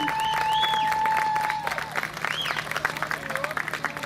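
Crowd applause and cheering at the opening of the Banda Bou carnival, a mix of clapping and voices with whistle-like tones over a steady hum, with speech woven through the noise.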